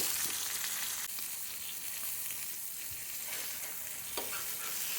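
A whole masala-coated fish roasts on a flat tawa griddle, sizzling and crackling steadily at close range with a few sharper pops.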